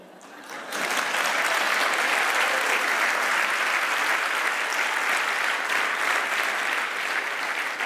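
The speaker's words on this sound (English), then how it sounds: "thank you for the applause" Applause from a TEDx audience in Verona swells in sharply after a quiet opening second, then holds as loud, sustained, dense clapping from a large crowd.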